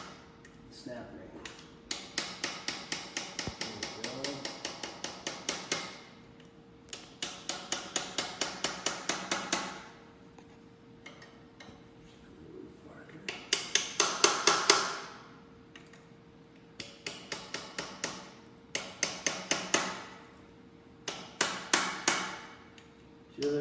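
A hammer drives a tractor transmission part into place against a snap ring, sounding as repeated rapid metallic blows in bursts, the tone shifting as the part seats solidly against the shoulder, close and fairly loud.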